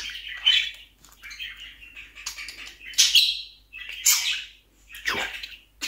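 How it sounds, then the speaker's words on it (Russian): A pet parrot gives repeated loud, harsh squawking calls in bursts about once a second, close by and alone, with no talk. "Попугайчик."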